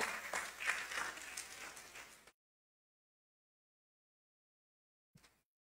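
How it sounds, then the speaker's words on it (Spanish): A church congregation claps for about two seconds during a Spanish-language worship service, a dense burst of many hands that cuts off abruptly into silence, followed by a brief faint knock near the end. "Dale un aplauso al Señor."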